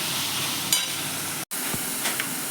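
Chopped onion, tomato and salt being stirred and mixed in a pan, a soft steady sizzle with faint scraping, quiet and close, no speech.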